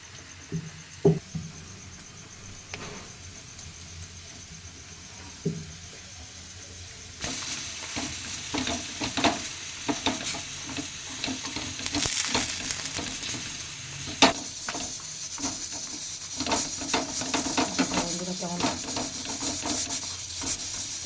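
Fenugreek greens fry in oil in a pan, a close sizzle broken by scraping and stirring strokes that grow busier and louder partway through, with no one speaking.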